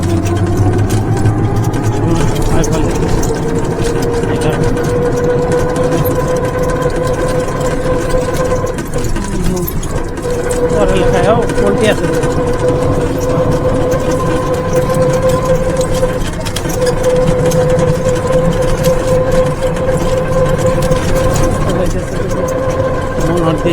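A steady, droning auto-rickshaw engine runs throughout a ride along a rural Bangladesh village road, close and continuous, with someone talking over the hum.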